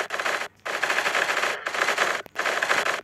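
Rapid automatic gunfire from a weapon in the Minecraft video game, three loud sustained bursts separated by brief pauses, with no talking.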